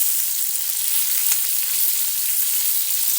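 Green chillies roast in a pan for a village-style thecha, giving a loud, continuous close sizzle with no talking.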